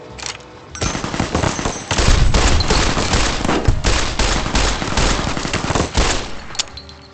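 Rapid machine-gun fire rattles in a shooter video game, dense bursts of close, loud gunshots running almost continuously for several seconds.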